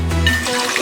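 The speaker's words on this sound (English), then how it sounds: "I'm going to fill up my water quickly" A glass fills with water from a kitchen tap, a short, loud gurgling pour whose tone rises briefly as the water level climbs, lasting under a second.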